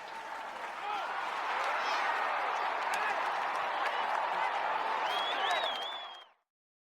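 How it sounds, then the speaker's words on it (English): Loud crowd applause and clapping swell in, hold steady with scattered cheers and whistles, then cut off sharply. "Let's hit that applause."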